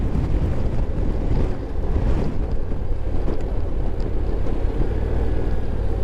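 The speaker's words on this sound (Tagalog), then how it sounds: "Naku po, ang hangin." Strong wind roars and buffets the microphone nonstop at a coastal viewpoint facing the Pacific in Dingalan, with a rushing, rumbling sound like open water nearby.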